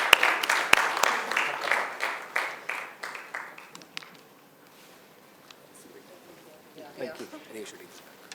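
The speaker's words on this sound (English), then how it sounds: "we have a loud round of applause, please" Audience at a mutual funds talk gives a round of applause: a burst of loud clapping that fades over about four seconds, followed by quieter talk near the microphone.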